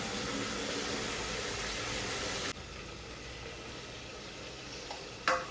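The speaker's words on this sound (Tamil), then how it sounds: "இஞ்சி பூண்டு பேஸ்ட்டு சேர்த்துக்கலாம். நல்லா வதக்கிடலாம்." Ginger-garlic paste sautés in a pan with a steady, fairly quiet sizzle that drops suddenly to a softer hiss halfway through, then a brief knock near the end, with no voices.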